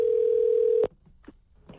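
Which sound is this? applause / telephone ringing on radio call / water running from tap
telephone ringing on radio call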